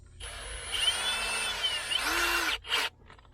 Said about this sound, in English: Start with a smaller drill first.